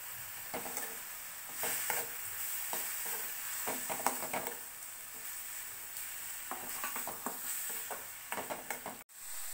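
Amla (Indian gooseberry) frying in a pan, a steady soft sizzle broken by repeated stirring scrapes and light taps of a utensil, ending with a single sharp click.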